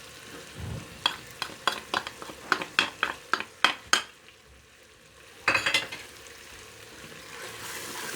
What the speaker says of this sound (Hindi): अब इनको भी भूनेंगे हम।